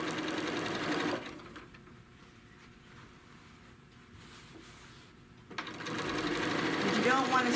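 A sewing machine runs steadily while stitching a crochet bag panel, a close mechanical whir lasting several seconds between stretches of talk before and after.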